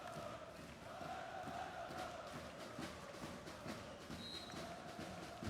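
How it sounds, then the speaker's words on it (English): Home basketball crowd filling an arena in Istanbul, a steady continuous roar of murmuring and cheering voices throughout, fairly loud and even with no single voice standing out. "It'll be a tough ask for them to keep quiet though, this home crowd here in Istanbul"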